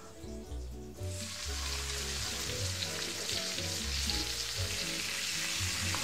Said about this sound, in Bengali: এই তেলটার মধ্যেই মাছ ভাজবো।